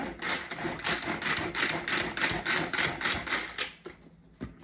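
Banana maple bread batter stirred by hand in a bowl, giving a rapid, regular series of close scraping and tapping strokes that stop near the end.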